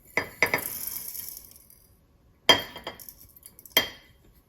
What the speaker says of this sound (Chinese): 这个花椒5克花椒倒进去